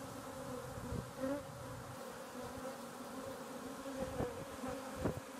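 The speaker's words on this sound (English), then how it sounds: "we've got 6 beehives" Honey bees buzz in a constant drone around rooftop hives in New York City, with individual bees zipping past up close now and then.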